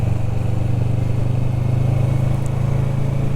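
A Kawasaki Vulcan S motorcycle rides along with a loud, steady, throbbing engine rumble close by and a faint whirr of wind and road noise.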